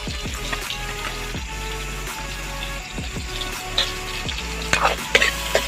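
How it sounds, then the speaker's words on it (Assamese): Onions fry in a pan with a steady sizzle, broken by repeated scraping and clinking of a spoon stirring them. "পিঁয়াজটো অলপ ভাজি ল'ব"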